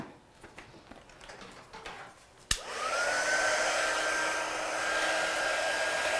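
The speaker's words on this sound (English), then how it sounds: "I'm just going to dry this off with my heat gun" Heat gun switching on with a click and blowing a steady, loud airy whoosh with a faint whine, drying a stamped watercolour background after some quiet handling noises.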